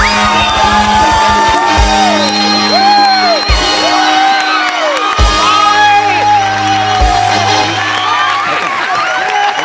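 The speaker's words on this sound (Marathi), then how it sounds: "एकदा जोरदार टाळ्या." Studio audience at a Marathi comedy show applauding and cheering, loud crowd whoops and shouts over clapping, with musical stings and sound effects layered on top throughout.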